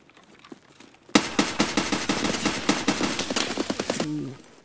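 After a quiet lead-in, a rapid burst of automatic gunfire erupts in a video game shooter, loud and close, with evenly spaced shots for about three seconds before tapering off.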